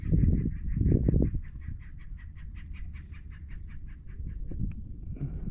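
Birds calling on an uninhabited mangrove island, a quick run of repeated honking, chattering calls over steady low wind or water noise, fairly close and with no one speaking.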